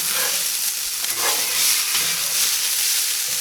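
A depression-era ground beef substitute fries in a pan with a steady, bright sizzle and hiss, stirred now and then, loud and close with no talking.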